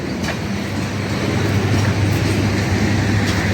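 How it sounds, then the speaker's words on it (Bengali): Lalmoni Express, a metre-gauge intercity train in Bangladesh, rolls past nearby with a steady low rumble and continuous broadband wheel noise, loud and unbroken throughout. "এই লালমনি এক্সপ্রেস তাড়াতাড়ি যা, আমরাও তো উঠবো ঢালার চরে, তাই না?"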